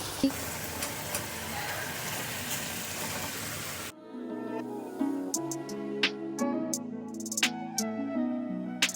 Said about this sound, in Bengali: মশলাটা এখানে কষে এসেছে তেল বেরিয়ে এসেছে এই রকম স্টেজে আমি আলুটা অ্যাড করে দেবো